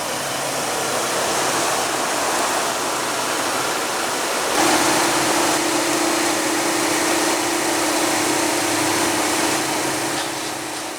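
A 2015 Audi Q3 with a 2.0 L four-cylinder turbo engine runs with a steady, loud broadband rush; partway through a constant low hum joins and holds to the end, with no talking.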